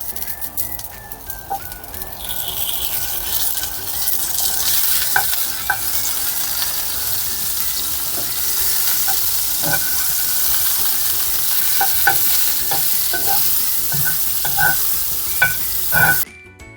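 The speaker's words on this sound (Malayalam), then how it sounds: "ചൂടായ പാനിലേക്ക് ഞാൻ ബട്ടർ ഇടുവാണേ." Butter sizzling loudly in a hot pan for brinjal fry, a constant bright hiss with scattered pops and spatters throughout, close and unbroken, with no voices.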